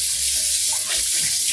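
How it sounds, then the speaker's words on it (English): Tap water runs steadily over a hot cast iron pan being rinsed in a sink, a continuous close, loud hiss and splash with no pauses and no talk. "we're gonna give this a rinse"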